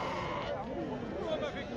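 Sheep bleat at a crowded Tuesday livestock market in Azrou, wavering cries rising over a constant babble of people talking close by.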